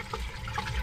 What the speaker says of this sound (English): So you see how the water's coming out through there?